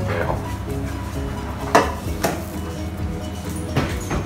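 A hot dish of herbal paper-wrapped chicken is lifted from an oven, with a couple of sharp metallic clanks and clatters against a low kitchen hum.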